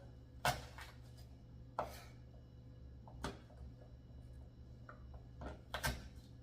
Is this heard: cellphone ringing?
no